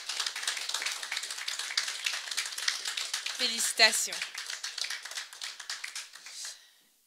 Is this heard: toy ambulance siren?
no